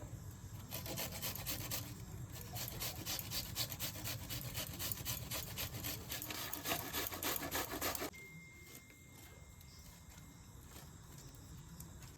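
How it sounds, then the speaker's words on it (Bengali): Onion is rubbed onto raw lote fish (Bombay duck) with quick, rhythmic, close scraping strokes for about eight seconds before it stops and the room goes quiet. "এবার মাছের মধ্যে আমি পেঁয়াজটা ঘষে দেবো"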